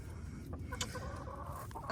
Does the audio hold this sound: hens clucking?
yes